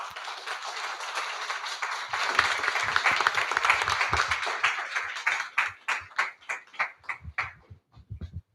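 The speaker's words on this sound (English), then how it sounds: "Please join me in welcoming them to the stage with a warm round of applause." Audience at a graduation ceremony for a six-month train-the-trainer piping course bursts into sustained applause, dense and steady at first, then thinning into scattered individual claps that taper off toward the end.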